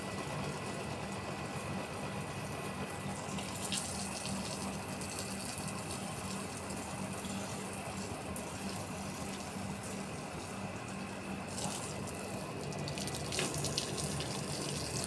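Water runs steadily from a hose or tap, washing down a cement floor outdoors in a garden area, a constant close hiss and splash with no pauses.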